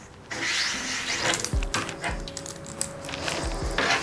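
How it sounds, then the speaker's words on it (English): An old plastic hinge is pulled out of a sticking shower door. There is scraping and rubbing of plastic, a few low knocks and clunks, and a faint tonal hum, all close and without talk. "you're basically just going to pull out the old hinge"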